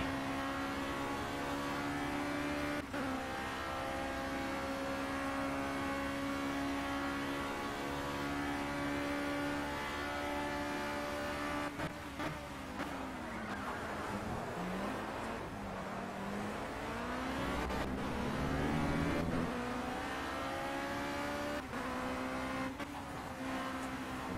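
Race cars in the video game Project CARS drive with a continuous engine whine that rises and falls through gear changes, and a few brief tire and passing sounds come midway. No voices are heard.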